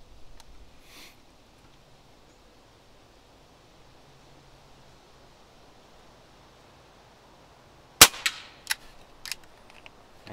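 A Crosman Vigilante CO2 air pistol fires at a can in one sharp crack, then a few quicker, quieter snaps trail off, standing out against faint outdoor background.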